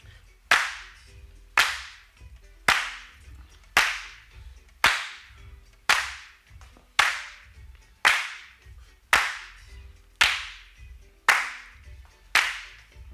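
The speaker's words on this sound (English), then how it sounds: "It's just a regular clap." A single studio handclap in a music track, drenched in reverb, repeating about a dozen times at an even, slow beat, each sharp crack trailing off into a long, smeared decay.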